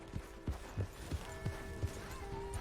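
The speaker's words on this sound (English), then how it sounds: "My horse! Am I glad to see you?" Horse hooves clip-clop at a steady walking rhythm in Red Dead Redemption 2, soft thuds spaced about every third of a second over a faint low hum.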